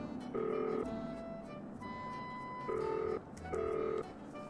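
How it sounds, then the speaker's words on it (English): A telephone ringing in the game Nancy Drew: Danger by Design, with repeated electronic double-tone rings in short even bursts and quiet gaps between them, heard alone at moderate volume. "Hugo, pick up your phone"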